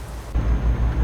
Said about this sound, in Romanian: ce plouă, bă